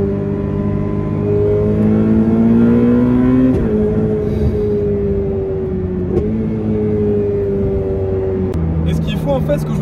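A Ferrari V8 sports car revving and blipping through downshifts, sustained engine tones rising and falling with sharp breaks at each gear change, heard inside the car while someone talks over it.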